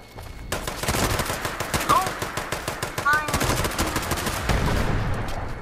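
Rapid automatic gunfire in the video game Fallout 76 during a Nuclear Winter match, loud sustained bursts of dense shots with brief electronic tones mixed in.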